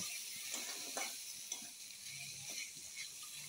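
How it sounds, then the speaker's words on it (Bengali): Pumpkin pieces are stirred into fried onions in a pan with a soft, faint sizzle, and light scraping and clinks of the spoon come at irregular moments, with no voices. "এখন মিষ্টি কুমড়োগুলো দিয়ে দেব, দিয়ে ভালো করে পেঁয়াজের সাথে মিশিয়ে নেব"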